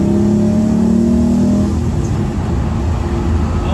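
A truck engine revs while driving, a loud steady mid-range roar with a rising tone early on that then settles into a sustained drone, alone without talk.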